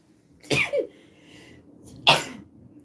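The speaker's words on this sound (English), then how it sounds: "I'm going to sneeze, I've got hay fever" A person with hay fever sneezes twice, about a second and a half apart. Each sneeze is a sharp, close, explosive burst, and the second is the louder of the two.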